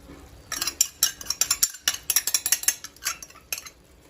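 A metal spoon stirs Maggi masala in a pan, giving a rapid run of sharp clinks and scrapes against the metal, close and fairly loud, with a short pause partway through and no voices.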